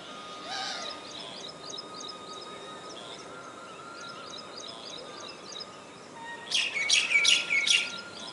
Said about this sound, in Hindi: पक्षियों का कलरव शुरू हो जाएगा, चिड़ियाओं की चहचहाट, ये अब धीरे धीरे बढ़ने लगी है।